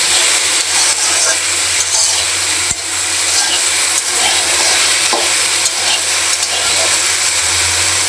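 Half a kilo of okra stir-frying in a pan, a loud steady sizzle with scraping and stirring strokes from a utensil repeating across the whole stretch, close and constant.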